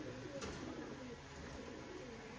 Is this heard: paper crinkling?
no